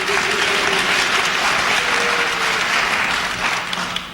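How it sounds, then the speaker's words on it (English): Steady applause from a 1984 presidential debate audience, a dense wash of clapping sustained at full strength throughout before tapering slightly at the end. "No applause, please."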